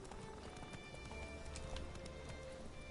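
A galloping horse in The Witcher 3 drums out quick, steady hoofbeats, fairly faint and continuous under a soft ambient wash, with no talk.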